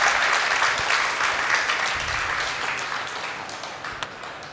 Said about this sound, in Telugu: సార్కి ఒకసారి గట్టిగా క్లాప్ చేసుకుందాం